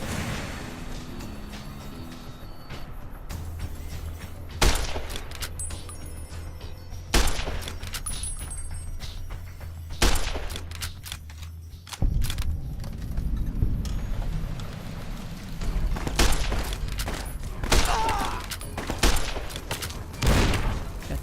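Dynamite explosions and gunfire in Fallout New Vegas, several heavy booms and shots spread a few seconds apart over a droning game soundscape, loud and close.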